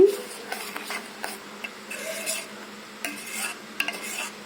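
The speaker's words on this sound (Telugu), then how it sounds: "కరిగే వరకు కలుపుకుందాము." Almond milk and sugar are stirred in a pot until the sugar dissolves, a spoon scraping and clinking against the vessel in irregular strokes, close and clear without speech.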